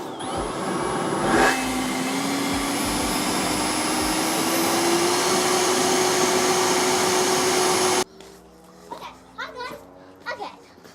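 Handheld leaf blowers, including Stihl, Ego and Husqvarna models, run at full power in a loud, steady whine with a rising tone for about eight seconds, then cut off; children's voices follow in quieter surroundings.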